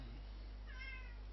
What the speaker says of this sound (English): And I apologize for the cat sounds.